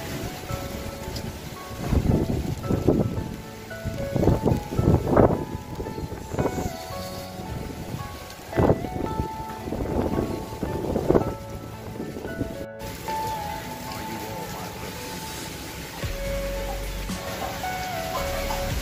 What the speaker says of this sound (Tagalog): Tingnan lang natin yung lakas ng hangin.